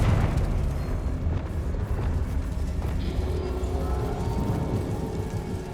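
A Confringo spell exploding in the wizarding game Hogwarts Legacy, a heavy booming burst that rolls into a long, dense rumble, loud and close, with no speech over it.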